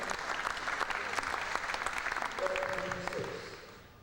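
Spectators applaud during a 2001 Hong Kong Open squash match, a steady wash of clapping from a distant crowd that fades near the end.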